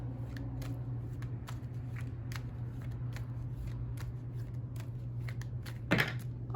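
Tarot cards drawn and slid from a deck, a string of quick crisp flicks and snaps under a low steady hum, with one louder card rustle near the end.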